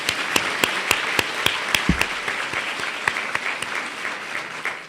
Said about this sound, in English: So I would actually like to just have one more round of applause for Dr.